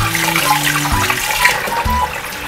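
Water pours steadily into a large pot being filled for boiling live lobster, a continuous splashing rush that runs the whole time with a few dull knocks of the pot, close and fairly loud.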